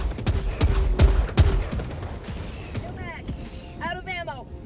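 Gunfire shells a hillside in the video game Helldivers 2. It opens with a quick volley of loud, close shots, then fades to a quieter rumble with whistling, sweeping tones. A voice talks over part of it.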